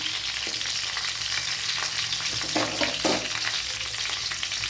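Curry leaves and chilies frying in hot oil, a dense continuous crackling sizzle close by, with a few brief stirring clatters midway and no talking.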